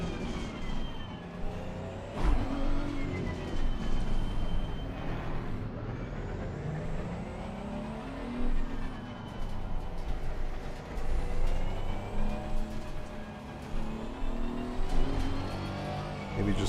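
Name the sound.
race car engines in Pro League Racing video game, Mount Panorama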